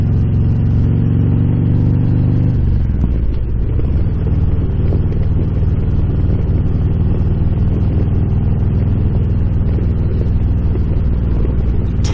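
A Harley-Davidson Road Glide motorcycle being ridden toward an office in lockdown Seattle; a loud, close engine drone that shifts pitch after a few seconds, then a steady rumbling cruise with wind noise, no voices.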